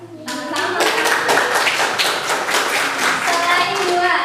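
A classroom of students claps for a classmate during a dance lesson, a dense, loud burst of close hand clapping that keeps going throughout, with a few voices mixed in.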